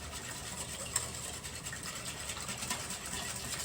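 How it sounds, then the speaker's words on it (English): Pudding mixture for a chocolate eclair cake being whisked by hand in a bowl, a steady, fast scraping rattle that runs at an even level throughout, close up, with no talking. "So we're gonna whisk this up."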